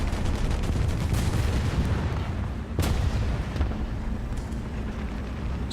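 Gunfire in a tank battle video game, heavy booming shots and rumbling blasts over a dense, loud battlefield din, with one sharp crack standing out midway.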